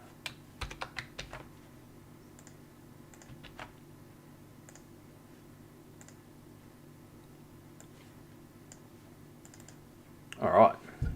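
Someone types a password on a computer keyboard, giving faint sparse key clicks in quiet surroundings, followed by a brief louder burst near the end.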